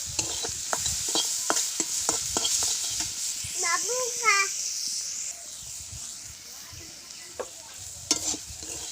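Cabbage, beans and onion fry in a pan for Maggi noodles, a steady high sizzle under repeated sharp scraping and stirring strokes of a spatula, close and fairly loud, with a brief squeaky scrape in the middle.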